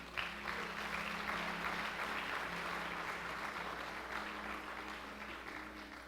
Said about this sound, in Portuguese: Se é verdade, aplauda o Senhor.